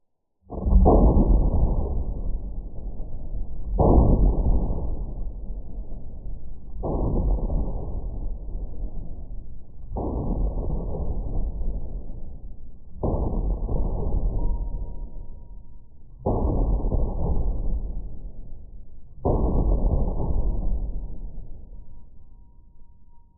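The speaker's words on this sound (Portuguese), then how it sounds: "Bom, agora eu também quero atirar sem o compensador. Vou dar uns 5 tirinhos aqui" Six or seven heavy gunshots from a firearm fired with its compensator removed, spaced about three seconds apart, each a loud sharp report with a long rumbling decay.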